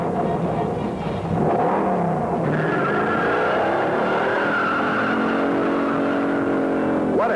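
A car with a TorqueFlite automatic transmission accelerating hard from a standstill on a road test, loud engine roar rising in pitch with some tire squeal, close by throughout.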